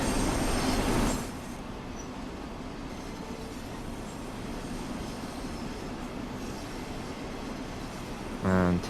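Train rolling along rails on the Hamburg–Lübeck line in Train Sim World 2, a steady rumbling roar throughout with a louder swell at the start and a brief clattering burst near the end.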